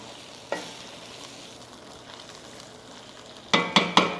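A spoon scrapes the bottom of a pot of beef bourguignon: one short scrape, a quiet simmering lull, then three quick, louder scraping strokes close up.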